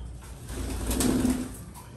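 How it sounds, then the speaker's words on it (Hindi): Pigeons coming down to feed on grain give soft, low cooing calls, a throaty burble swelling in the middle over a quiet outdoor background, with no talking. "तो ये सारे कबूतर वगैरह नीचे आ गए दाना खाने के लिए।"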